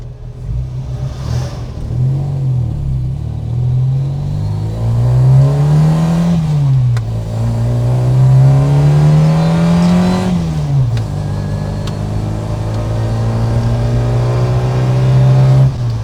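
A supercharged MGB B-Series engine accelerates through several gears, its pitch climbing and dropping at each shift, with a loud supercharger whine building throughout from inside the car.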